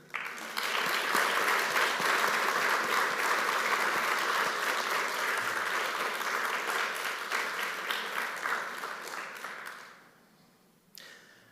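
A crowd at a summer school closing ceremony applauds the participants, sustained loud clapping that gradually thins and fades out near the end.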